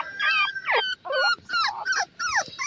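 Shih tzu, beagle and golden retriever puppies whimper and yip in a run of high, close cries, several short whines in quick succession with brief pauses between.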